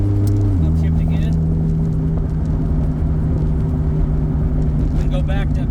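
Nissan S14 fitted with a 2JZ engine and an 8HP70 automatic gearbox shifting up: a steady engine drone drops sharply in pitch as the gear changes, then holds a lower, continuous rumble heard from inside the car.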